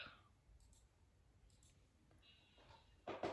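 A husband works at his computer nearby, sending out a faint scatter of sharp mouse clicks, some in quick pairs and a louder burst at the end, in an otherwise quiet room with no talking.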